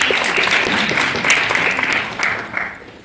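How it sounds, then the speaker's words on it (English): Crowd clapping at a cross-border collaboration salon, a dense burst of applause that holds steady for a few seconds, then thins and fades out. "So maybe you can clap for that."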